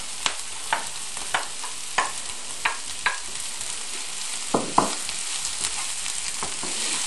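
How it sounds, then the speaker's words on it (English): Garlic and onions sizzle steadily in a frying pan, with a series of sharp scrapes and clinks from stirring at irregular intervals over the continuous hiss. "it will take another 3 minutes for both the garlic and the onions to go golden brown"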